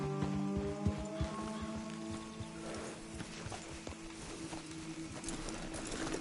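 Steady clip-clop of several horses' hooves walking at an easy pace in the video game Red Dead Redemption 2, with a brief whinny at the start and a soft background hiss.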